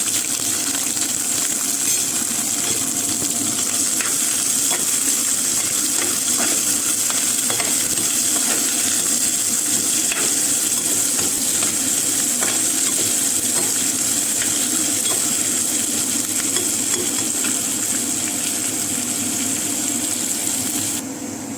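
Onions sizzle and fry steadily in a pan for a Punjabi capsicum (shimla mirch) sabzi, with occasional stirring scrapes over a constant loud hiss and no talking.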